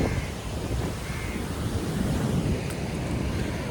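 Sea waves wash up steadily on a beach beside a hilly road, a continuous broadband surf rush with wind buffeting the microphone and a brief faint crow-like call near the end, with no voices.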